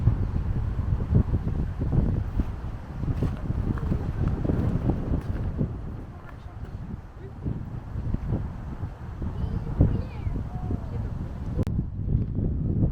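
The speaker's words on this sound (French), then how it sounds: "il y a du vent, j'espère que vous allez m'entendre" Steady wind rumbling and buffeting against the microphone at the fishing port of Port Anna in Séné, Brittany, a low continuous roar with gusts, with a voice talking over it in French.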